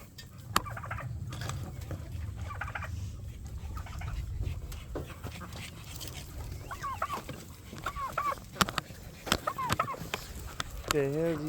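A large flock of chickens and turkeys on a farm clucks, gobbles and calls continuously, with sharper squawks rising over a steady background of bird chatter nearby.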